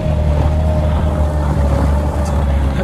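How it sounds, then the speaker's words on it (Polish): A boat engine off Phi Phi Island, Thailand, idling with a steady low rumble and a constant tonal whine, loud and close throughout. "Akurat mi włączył silnik."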